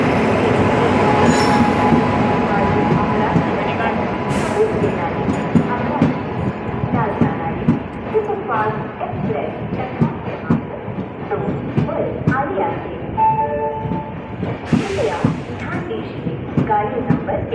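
The Amravati Superfast Express, train 12111, pulls out of Murtizapur station, loud and close with rumbling wheels, repeated clicks over rail joints and sharp wheel squeals, while people talk nearby.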